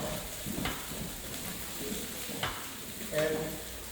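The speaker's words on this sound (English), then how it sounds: "when you're frying rice, you want to hear the sizzle" Rice fries quietly in a pan, giving a soft steady sizzle broken by a few brief scrapes of stirring.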